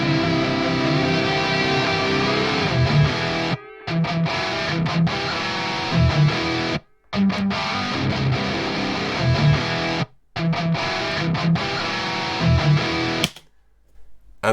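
Electric guitar run through the free ML Amped Roots amp simulator plugin, heavily distorted and dense, chugging rhythm riffs with brief silent breaks, loud and up close with no talking.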